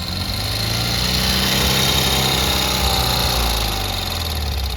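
A vehicle engine held at high revs because of a sticking throttle cable, a loud steady droning roar with a buzzing whine that barely changes pitch, close and continuous.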